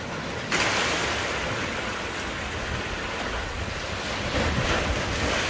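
Surf rolls and crashes onto the shore at Sabang, Puerto Galera, Philippines, on a rainy morning: a steady, loud, broadband wash of breaking waves with wind buffeting the microphone, and no voices.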